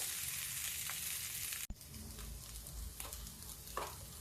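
Chaat ingredients roast in a pan over a low gas flame, giving a steady close sizzle and crackle with a sharp clatter partway through and occasional stirring scrapes.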